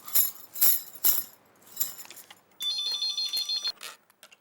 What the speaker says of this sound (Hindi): अभी अंजलि भाभी को फोन करके बता देती हूँ।